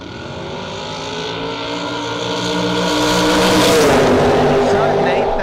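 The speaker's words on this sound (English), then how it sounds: "Cool little roadster hot rod in the right lane." A roadster hot rod drag racing down the strip at a bracket race, its engine roaring loudly and rising in pitch as it passes close by, with an announcer talking over it.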